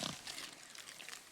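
A wild boar in God of War grunts and snorts, a short rough burst followed by fainter breathy huffs, quiet and somewhat distant.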